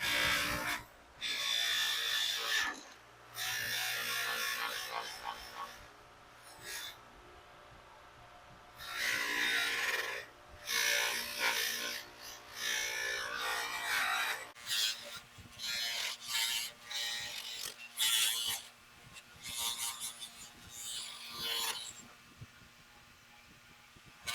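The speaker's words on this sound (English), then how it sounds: "I'm going to take it real quick and just throw it over on my polishing wheel" A bench polishing wheel grinds against a Mopar rally wheel center cap from a 1973 Dodge, loud rasping bursts of buffing broken by brief pauses as the piece is repositioned, close and without talking.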